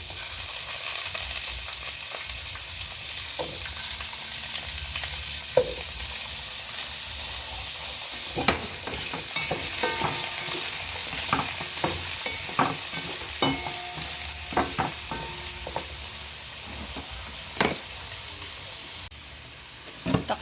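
Squash being stir-fried in a pan for ginisang monggo, a Filipino mung bean stew, with a continuous sizzle and repeated clicks and scrapes from a stirring utensil, close and steady for about twenty seconds with no voices.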